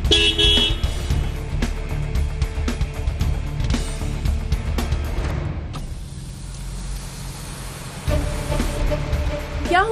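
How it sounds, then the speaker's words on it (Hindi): Car horns honk repeatedly in busy traffic, several short toots and longer blasts over a steady rumble of engines, loud and close throughout. "मुझे हॉर्न दे रहा है।"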